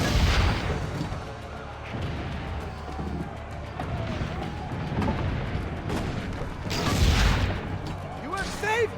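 Cannon and gunfire from a siege battle in Assassin's Creed: Brotherhood, dense booms and crackling bursts mixed with game voices and music throughout, with a louder blast near the end.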